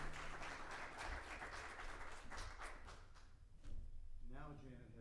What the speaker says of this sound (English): Let's have a round of applause for Shane Barker.